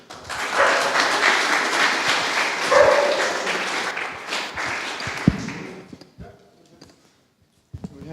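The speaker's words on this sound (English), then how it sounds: "Another round of applause then." A crowd claps steadily for several seconds, then the applause fades out to a few scattered claps.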